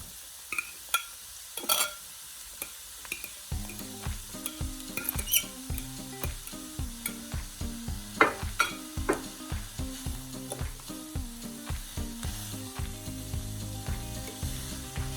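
Zucchini noodles frying in a pan, a soft sizzle under repeated rhythmic scraping and clacking strokes of stirring, close and continuous with no talk.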